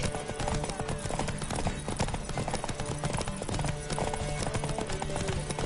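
Horse hooves clip-clop steadily in Witcher 3 amid game music and combat noise, with a brief whinny; a voice speaks over parts of it.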